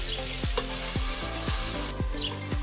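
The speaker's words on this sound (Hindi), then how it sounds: "तेल डालकर इसको अच्छी तरह से हमने भून लेना है" Chopped carrots fry in hot oil for Kabuli pulao, a steady dense sizzle with rhythmic stirring strokes sweeping through it about twice a second, close and even.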